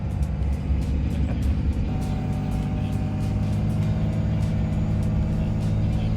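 A car engine runs steadily and loud close by, a continuous low rumbling idle with faint ticking on top, holding an even level throughout with no clear rise in revs.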